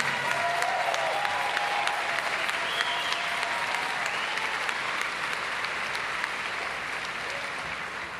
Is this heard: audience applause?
yes